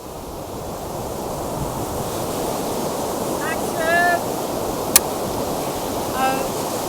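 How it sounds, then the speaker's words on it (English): Waves and gusting wind roar steadily on a cold, windy beach, a broad continuous wash, with a brief faint voice fragment and a single sharp click. "I'm on this very cold and windy beach"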